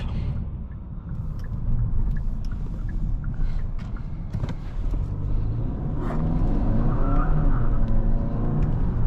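A 2021 Kia K5 GT, front-wheel drive with traction control switched off, is driven hard from inside the cabin: a loud, continuous engine and road rumble that swells toward the end, with tire noise over it and no talking.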